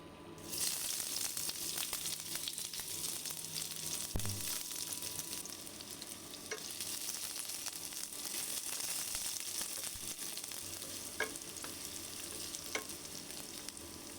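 Garlic and onion fry in hot oil in a pan, making a steady, loud, dense sizzle that runs throughout, with a few faint clinks and stirring scrapes and no talking.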